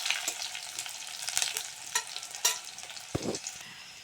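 Chopped onion frying lightly in mustard oil, a soft, fairly quiet sizzle with intermittent spatula stirs and one louder scrape near the end.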